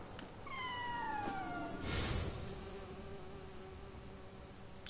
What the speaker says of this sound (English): Scamper is a yokai in the form of a particular corpulent cat.